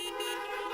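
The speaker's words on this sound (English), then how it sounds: "If you can hear me, honk your horn" Car horns sound continuously for a brief moment at a drive-in car choir brunch fundraiser, a steady sustained honking with no talk over it.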